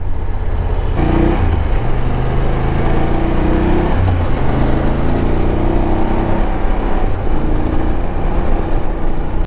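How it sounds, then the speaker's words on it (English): A BMW F850 GS twin-cylinder motorcycle engine rumbles loudly and close, a deep steady throb with slight shifts in pitch as it runs and revs. "the sound of the engine would be the final point that I'm not a big fan of."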